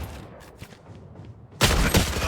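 Bursts of rapid gunfire from a shooting video game, faint scattered shots at first, then a loud sustained volley of automatic fire in the last second, with no talking.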